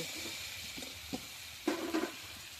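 Kohlrabi and potatoes frying in a pan with chili powder, stirred now and then: a faint steady sizzle with a few short scraping stirs, the loudest near the end.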